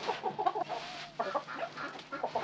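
Bond Brown laying hens in a flock of 75 cluck close by, a busy run of short overlapping clucks and calls.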